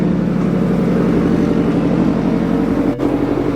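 A steady, loud engine of a rear-wheel-drive-converted Subaru STI idles with a deep, throaty exhaust rumble, close up, with a brief dip near the end, after an exhaust leak repair.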